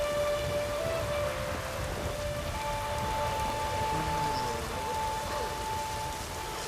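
Steady rainfall from The Witcher 3: Wild Hunt hisses as a continuous broadband wash, with a few faint sustained tones drifting above it and no speech.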